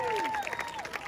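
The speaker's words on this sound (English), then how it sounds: "give Bosu a massive round of applause" A street show crowd in Queenstown applauds a volunteer with fairly faint, scattered clapping, while a voice speaks over it and partly masks the claps through the short moment.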